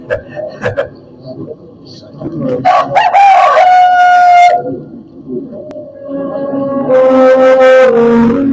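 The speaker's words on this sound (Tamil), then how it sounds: "சேவல் கூடுகிறதற்கு முன்னே நீ 3 தரம் மறுதளித்தாய் என்று இயேசு சொன்னதை நினைவு கொண்டார்" A rooster crows loudly and close in a Tamil dramatized Bible scene of Peter's denial, two long drawn-out calls with clucking and background voices around them.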